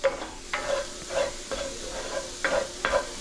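Vegetables cooking in a cast iron pan over medium to medium-low heat, a steady sizzle broken by repeated stirring scrapes, several strokes spaced through the clip, close and fairly loud with no talk.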